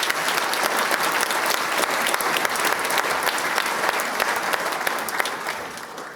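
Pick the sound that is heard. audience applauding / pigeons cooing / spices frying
audience applauding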